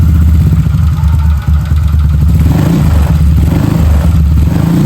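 A motorcycle engine built as a Ducati replica starts and revs loudly at close range, a dense rumbling roar that surges and settles, with no voices over it.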